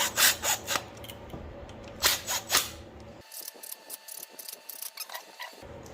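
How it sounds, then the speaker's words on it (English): An impact wrench runs flywheel bolts down on an Audi A4 2.0T, with a series of loud, close rattling bursts followed by softer ratcheting and mechanical clatter. "Just gonna use the impact here just to bottom all these bolts out"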